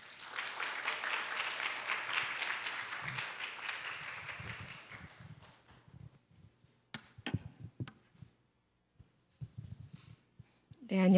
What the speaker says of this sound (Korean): 뜨거운 박수로 모시도록 하겠습니다.